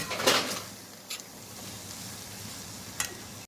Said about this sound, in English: allow it to fry for about 5 to 10 minutes. Continually stirring the pasta so it doesn't stick to the bottom.